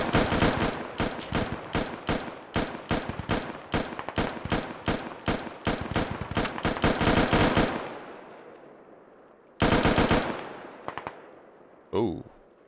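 Rapid bursts of automatic rifle fire in the military shooter Squad, dense repeated shots for about eight seconds, then a short sharp volley and a final crack, loud and close with no talking.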